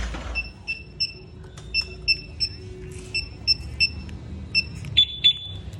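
Short electronic alarm chirps from a Suzuki Raider/Sniper 150 motorcycle's two-way alarm system repeat in an irregular rhythm, sharp and close, over low engine or background rumble.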